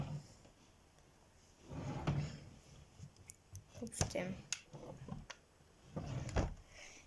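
Drawers in a child's bedroom slide open and shut with several soft thuds and clicks at close range, mixed with brief speech.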